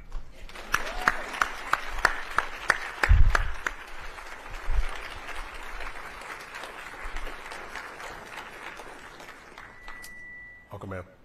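Symposium audience applauding, with a few rhythmic claps leading into broad sustained applause from a large crowd that tapers off slowly, while voices talk over it near the start.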